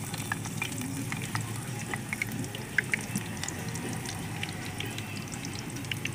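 Stuffed green chilies coated in batter for mirchi bajji fry in hot oil, giving a steady bubbling sizzle with scattered crisp pops and crackles, fairly quiet and heard without talking.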